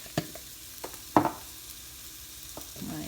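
Spices such as chili powder and cumin fry in a pan for a black bean and potato stir-fry, a soft sizzle punctuated by a few sharp spoon clinks and scrapes against the pan while being mixed.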